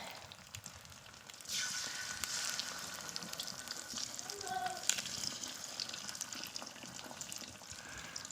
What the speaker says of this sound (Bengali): বেগুন ভাজার তেলটাতেই আমি ডিমগুলো ভেজে নিলাম